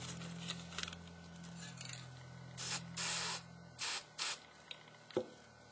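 Several short hissing bursts from a can of black spray paint, quiet and close, separated by pauses, with a low hum early on and a small click.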